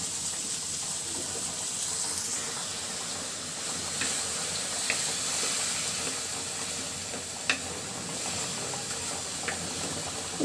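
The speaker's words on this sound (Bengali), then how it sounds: "কষানোর জন্য দিয়ে দিচ্ছি একটুখানি পানি।" Tomato, garlic and onion masala sizzles in a pan over a low gas flame after a splash of water goes in, giving a steady close hiss with a few faint clicks and pops.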